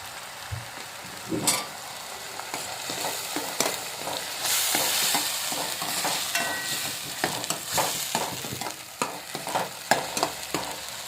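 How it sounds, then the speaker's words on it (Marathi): Masala with turmeric sautés in a pan with a steady close sizzle, broken by repeated scraping and clacking stir strokes of a spoon against the pan. "हे व्यवस्थित परतून घेऊया आता हळद टाकूया"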